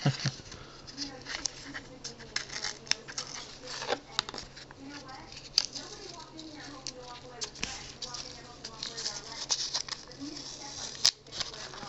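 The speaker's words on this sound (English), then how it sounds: "And carefully peel the tape off" Masking tape is peeled slowly off a painted model armor piece, giving soft intermittent tearing and crackling sounds in small bursts, close and fairly quiet.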